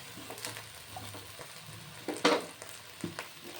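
Salted eggplant pieces fry in a small kadai and are stirred through, giving a continuous soft sizzle broken by scraping stirs and one louder crackling burst.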